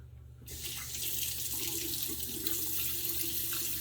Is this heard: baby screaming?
no